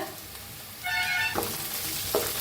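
Onion fries in a pan with curry leaves for a potato and brinjal curry, a soft sizzle that jumps louder partway through, followed by a couple of short stirring scrapes.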